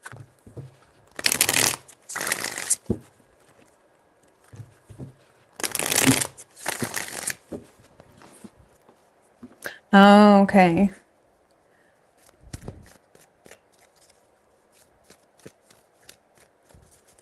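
Tarot cards are shuffled in four loud bursts of riffling, two early and two a few seconds later, with softer handling taps between and a short spoken remark in the middle.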